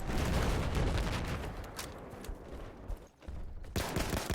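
An MTAR carbine in Battlefield 4 fires loud, rapid automatic bursts of sharp cracks, with a brief pause before a final volley.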